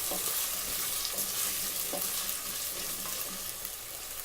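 Okra and potato curry being stirred in hot oil gives a steady, close sizzle broken by a few soft stirring scrapes, with no talking.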